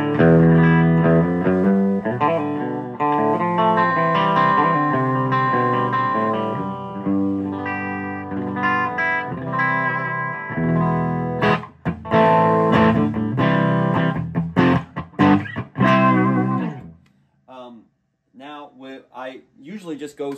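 Electric guitar played through a Space Echo preamp pedal with heavy added gain, sustained chords ringing out and then choppier strummed bursts trailing off into short stabs.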